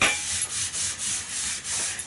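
Bon Ami scrubbing rust and corrosion off the edge of a vintage tin pie plate makes a close, rough, rhythmic rubbing, several back-and-forth strokes in quick succession.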